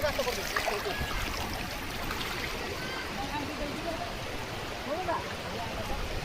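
Heavy floodwater rushes over a bridge in a steady, loud broadband roar with no break, while a person talks faintly beneath it.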